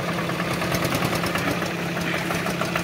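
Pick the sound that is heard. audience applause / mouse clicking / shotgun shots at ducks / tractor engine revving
tractor engine revving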